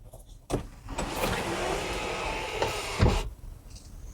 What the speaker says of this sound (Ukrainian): дах панорамний, панорама красива. Спробуємо її зараз відкрити.